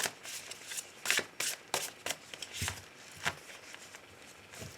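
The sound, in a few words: shuffling cards for a love tarot reading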